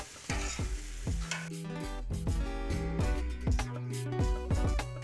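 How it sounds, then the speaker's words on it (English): Onions being turned on a grill sizzle steadily, with repeated scraping and clanking strokes of a metal spatula and a sustained ringing tone in places. "It's time to turn the onions."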